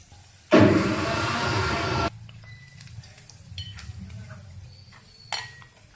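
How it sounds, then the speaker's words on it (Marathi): Mixer grinder grinding green chillies, ginger, 6-7 garlic cloves and a little coriander, one loud whirring burst of about a second and a half, then quiet kitchen clinks and faint background noise. "आलं, लसणाच्या पाकळ्या घेतल्या होत्या मी 6-7 आणि थोडीशी कोथिंबीर, ही एकत्र असं वाटून घेऊ मिक्सरवर"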